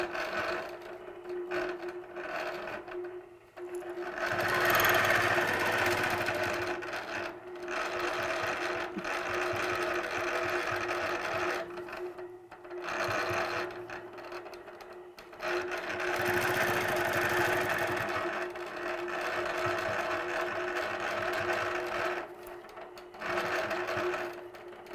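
Longarm quilting machine stitching arcs along a quilt border or sashing, a steady, close mechanical whirr running almost without pause, with brief stops and restarts as the stitching resumes.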